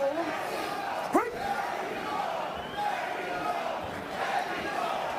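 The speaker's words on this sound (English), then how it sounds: "Mexico is the chant from the crowd" A large boxing arena crowd at a Damian Knyba vs Helaman Olguin heavyweight fight chants in unison, a rhythmic mass of voices heard at a distance under the general hall noise.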